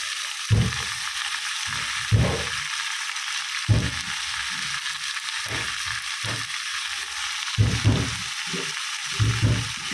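Eggplant slices fry in a hot pan at home with a steady close sizzle, broken by repeated soft scraping and turning thumps at irregular intervals.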